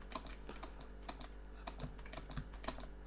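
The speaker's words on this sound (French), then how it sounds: "J'ai quand même connecté mon clavier et ma souris à la PS4" Computer keyboard connected to a PS4, typed on while playing Minecraft: a steady run of close, crisp key clicks with a few louder strikes, and no talking.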